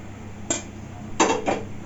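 An iron kadai wok set onto a stove makes a brief metallic clank, followed by two quick knocking scrapes of metal against the burner, close and fairly loud.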